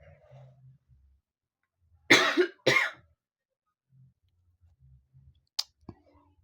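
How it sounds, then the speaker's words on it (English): Two short dry coughs in quick succession from a person outdoors near a fairground plane ride, with a faint click and quiet low background rumble around them. "Yeah, I'm having a cough, a dry cough."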